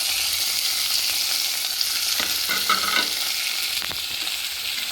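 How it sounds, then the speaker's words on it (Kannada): Onion, tomato and curry leaves frying in coconut oil, a close sizzle with a few stirring scrapes and bursts in the middle, no voices. "ಅದಕ್ಕೆ ನಾನು ಒಂದು ಈರುಳ್ಳಿ, ಒಂದು ಟೊಮೆಟೊ, ಸ್ವಲ್ಪ ಕರಿಬೇವು ಸೊಪ್ಪು ಹಾಕ್ಕೊಂಡು ನಾನು ಫ್ರೈ ಮಾಡುವ."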